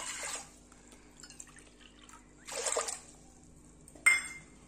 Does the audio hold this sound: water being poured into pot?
yes